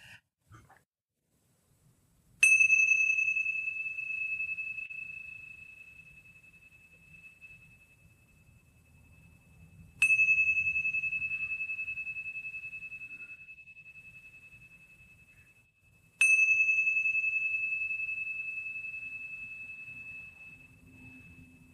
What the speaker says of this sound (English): These are brass tingsha Tibetan bells, or they're called cymbals.